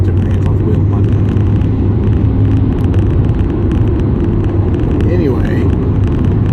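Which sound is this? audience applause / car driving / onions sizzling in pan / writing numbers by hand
car driving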